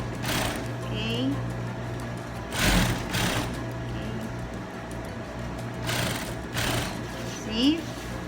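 Sewing machine running steadily while stitching the hem of a balloon skirt, a continuous close mechanical whir with brief louder bursts, and a voice speaking over it at times.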